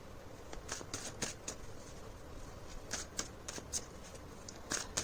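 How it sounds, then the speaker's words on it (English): Tarot cards being shuffled by hand at a reading, a series of soft, papery riffling bursts at an irregular pace, fairly faint against a quiet background with no talking. "so let's pull one card as an outcome for"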